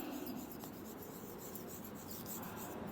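Pen scratching out a handwritten name on paper, a steady soft rasp throughout, close and faint with no voices.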